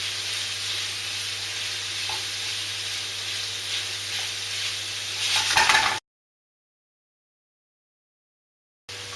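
Meat sizzles steadily in a hot pan for buttcheek stew, a loud continuous frying hiss with a brief stirring flare near the end before cutting to silence, then a short return of sizzle.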